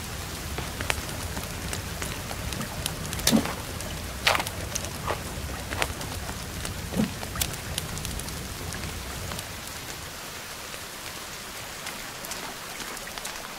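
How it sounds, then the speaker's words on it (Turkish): Steady rain falls in the survival video game The Forest, a dense continuous patter with scattered louder drops, thinning slightly toward the end. "Yağmur yağıyor, üşürsün."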